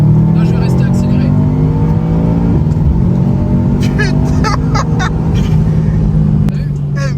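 A 400-horsepower Subaru STI 8.5 Stage 2 pulling hard at full throttle, its engine note climbing steadily and loud, with chattering voices in the car over the roar.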